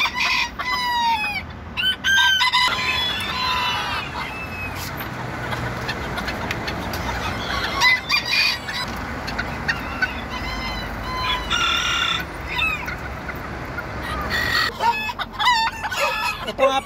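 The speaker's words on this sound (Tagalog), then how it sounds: "Bantam po yan, di pa yan panabong na manok ha." Several bantam chickens cluck steadily while bantam roosters crow repeatedly, layered over a busy outdoor background with passing traffic noise.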